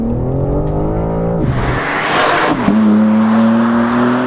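A new BMW M4 is driven hard from inside: a loud engine drone rises, breaks into a burst of exhaust noise during a gear change, then settles into a steady, strong tone at new revs.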